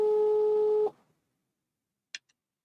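A telephone line on a hotline call gives a steady two-tone ring for under a second, then silence broken by a faint click.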